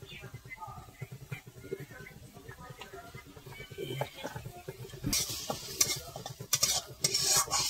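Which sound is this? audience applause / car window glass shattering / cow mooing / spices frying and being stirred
spices frying and being stirred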